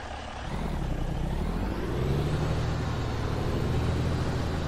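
Truck engine in American Truck Simulator droning steadily at close range, its pitch shifting upward midway as gears change, with no talk.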